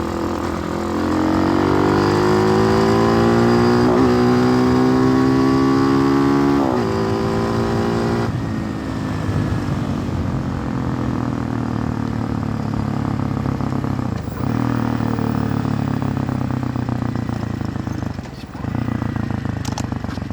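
A Hawk 250 motorcycle with a swapped Loncin RE250 engine and a Nibbi PE30 carburetor pulls hard, its engine note climbing in pitch through rising revs before settling into a steady drone. It is loud and close, with the rider talking over it.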